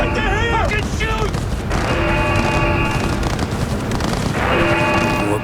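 Rapid gunfire and booms sound throughout a combat scene in the video game Cyberpunk 2077, a dense loud barrage mixed with shouting voices and sustained siren-like tones.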